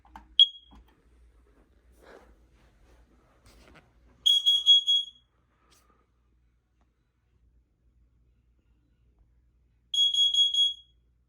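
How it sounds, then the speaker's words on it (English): A household smoke alarm under test gives two short bursts of shrill, rapid beeping a few seconds apart, close by and loud against an otherwise quiet room. "Let's get started the smoke alarm test video."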